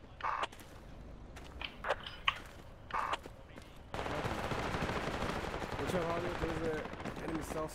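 Sharp bursts of gunfire crack from the military shooter game Project Reality, a few single shots early, then a dense, sustained din of combat noise with rapid firing in the background.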